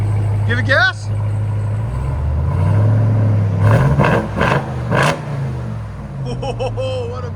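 A Ram TRX pickup fitted with Flowmaster Super 10 exhaust revs hard several times, deep loud blasts rising and falling up close, with people talking over the engine.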